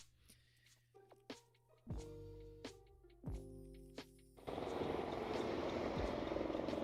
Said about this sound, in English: Hear a helicopter.